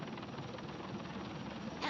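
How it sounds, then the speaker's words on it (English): A helicopter blade sound effect plays in a video game, a steady rapid chopping whir that continues for about two seconds under a speaking voice. "helicopter blade sound effect"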